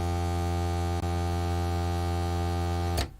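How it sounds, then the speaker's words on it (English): A harsh, buzzy synthesizer sawtooth wave drones as one steady sustained tone for about three seconds, with a brief dip near one second before it cuts off. "We've got a thing called a sawtooth wave"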